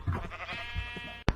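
Sheep bleat in a survival island video game, a loud, wavering nasal cry held for about a second, followed by a sharp brief thump.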